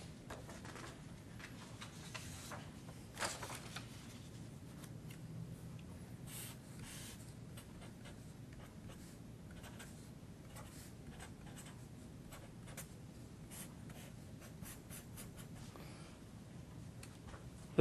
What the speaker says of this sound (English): So let me maybe write this separately.